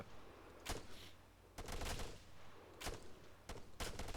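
Squad rifles fire in the Arma 3 video game, with several sharp bursts of gunshots separated by short pauses, loud and close over a low ambient rumble.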